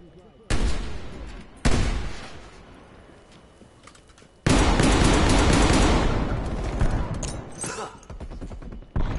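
Sentry turrets fire in Call of Duty in several abrupt loud bursts, with a long sustained volley of gunfire in the second half, close and harsh, while a voice talks over part of it.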